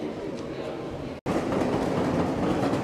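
A Dublin metro train running, giving a steady, loud, close rumble with a dense rattling roar that drops out for an instant partway through and then carries on unbroken.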